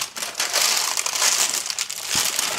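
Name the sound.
crumpling parchment paper into a baking pan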